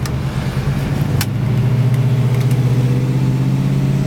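A 1962 Chevrolet Nova II with a 383 blueprint V8 cruising, a close, steady, mellow engine drone with a brief clunk early on, then a smooth, even pull with no talking.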